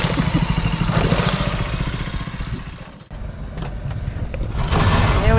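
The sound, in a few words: boat engine running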